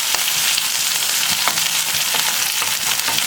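Curry leaves frying in hot oil with onions for a masoor lentil dal give off a loud, continuous crackling sizzle up close, with brief spits and pops over the steady hiss.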